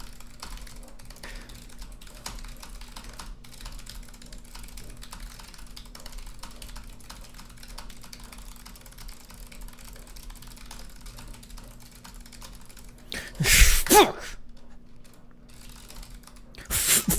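Rapid, continuous clatter of typing on a computer keyboard, close and steady for most of the stretch, with a louder burst of handling noise near the end.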